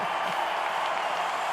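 A dense, steady roar of applause and cheering from the US Open tennis crowd after a Djokovic touch volley, loud and sustained without a break.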